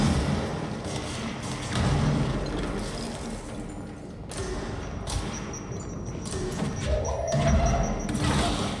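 Grenades explode amid gunfire and clattering in the Control video game, with heavy thuds and crashes layered over continuous loud combat noise and no quiet gaps.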